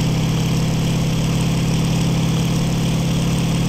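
Aircraft engine at full throttle in the IL-2 combat flight sim, a steady loud droning roar with strong low pulsing hum held evenly throughout, with no talk over it.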